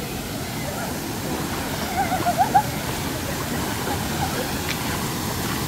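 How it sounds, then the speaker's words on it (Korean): Steady roar of Janggak waterfall on Songnisan, fed by water from Cheonhwangbong peak, heard from inside the falls as a constant near wash of falling water with a few brief splashes. "폭포 안으로 들어왔고요"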